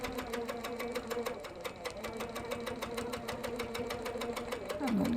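A sewing machine runs a continuous fast, even stitch while quilting an in-the-hoop quilt block, a rapid mechanical chatter held steady throughout.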